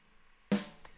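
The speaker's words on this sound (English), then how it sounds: "I've added in a second snare drum sample" Single snare drum sample struck once on its own, a short sharp hit with a bright noisy burst that decays quickly, against quiet background.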